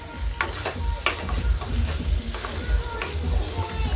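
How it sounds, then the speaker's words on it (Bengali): Spice paste with a spoonful of salt fries and is stirred in a pan for a Bengali fish curry, a steady close sizzle with repeated scraping strokes of the spoon, no voices. "দিয়ে ভালো করে ফের মশলাটা কষিয়ে নেব।"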